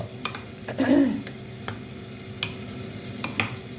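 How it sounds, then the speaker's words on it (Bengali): A spoon stirs mashed eggplant (begun bharta) in a pan, giving a scraping swirl near the start followed by a few sharp clicks and taps against the pan over a faint, steady sizzle. "এবার একটু নাড়া দিয়ে দেখি"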